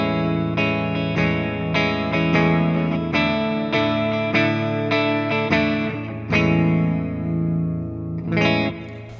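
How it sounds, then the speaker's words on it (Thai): Clean electric guitar chords and picked notes through a Tank G multi-effects unit, ringing with light chorus and reverb, played steadily in a rhythmic pattern with no voices. "เริ่มจากเสียงคลีนกันก่อนดีกว่านะตัวนี้นะครับเป็นงี้"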